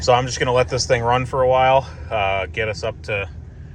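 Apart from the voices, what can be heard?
No everyday noise stands out behind the speech.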